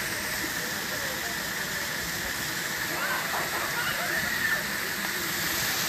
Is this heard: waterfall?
yes